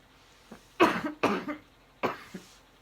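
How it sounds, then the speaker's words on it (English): Three dry coughs from someone close by, the first two in a quick burst and a third a moment later, each followed by a short breath. "But hold on, I have to cough."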